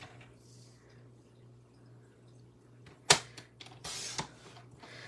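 A 6x6 sheet of paper is sliced on a paper trimmer with a quick, crisp swipe close by, followed by a short scraping rustle as the piece slides, over a low steady background hum.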